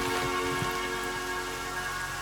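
Torrential monsoon rain pounding down as a dense, steady patter and hiss, loud and close, with faint low thuds underneath and no voices.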